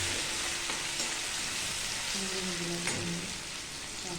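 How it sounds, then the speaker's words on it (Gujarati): A garlic, ginger and chili paste mixture with chopped chilies sizzles and fries in a pan, a steady hiss of oil with a few faint scraping stirs breaking through near the end. "હવે આ મિશ્રણને હલાવી લો।"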